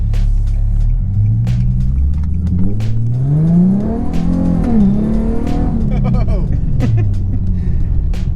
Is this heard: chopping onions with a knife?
no